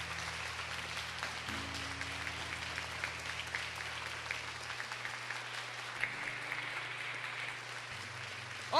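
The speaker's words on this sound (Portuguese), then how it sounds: "Aplauda com força, Mãe!" Applause from a church congregation honouring Our Lady of Fátima, a steady textured patter of clapping running beneath sustained low organ or keyboard tones, moderately distant and even throughout.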